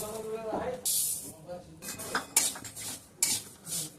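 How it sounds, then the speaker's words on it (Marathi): Sesame seeds dry-roasting in a pan as a spoon or spatula stirs them, giving repeated scraping and clinking bursts against the metal, close and moderately loud, with a little voice in the background. "तर आपण आहे ना पहिलं तीळ भाजून घेऊया."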